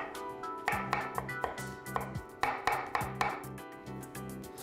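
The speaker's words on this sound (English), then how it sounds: "I'm just going to rough chop some cilantro as well" A knife rough chopping cilantro and Thai basil on a cutting board, a series of sharp, fairly close thunks in an uneven rhythm over a faint background hum.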